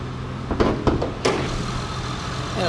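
A 2007 Honda Odyssey's 3.5-liter V6 VTEC engine idles steadily with a smooth, even low hum, broken early by a few brief clicks or knocks, with no talking.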